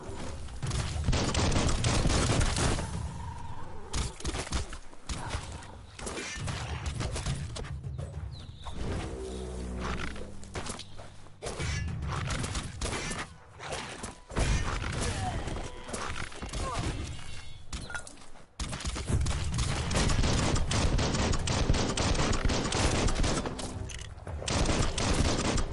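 Dense bursts of gunfire ring out during a chaotic firefight in the action game Biomutant on PS5, loud and nearly continuous, mixed with clattering effects and game sound, briefly thinning before resuming.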